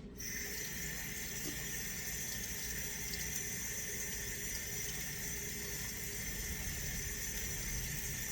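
Cold water runs steadily from a kitchen faucet into a bowl while yeast is being prepared for sweet potato sweet rolls, a continuous close rushing stream with no talk.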